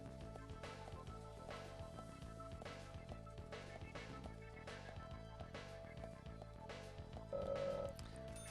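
A telephone rings faintly in the video game Deadly Premonition, a thin repeated tone buried under steady, dense background music.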